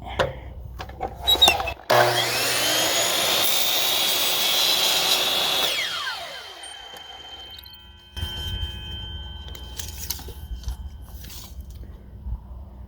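A power saw whines up and cuts through a piece of pine trim for about four seconds, then winds down, followed by quieter handling clatter and knocks.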